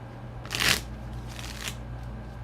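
Tarot cards being shuffled, a short papery riffle burst followed by a softer second flutter, close and alone over a low steady hum.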